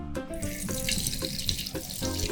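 About half a glass of water poured in a steady, rushing splash, continuous and fairly close for a couple of seconds, with no talking.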